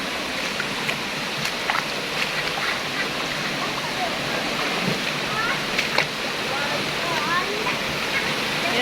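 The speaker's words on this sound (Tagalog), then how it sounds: "Yan yung falls nila." A waterfall near a cave pours in a continuous broad rushing roar, steady and fairly loud, with faint voices now and then over the water.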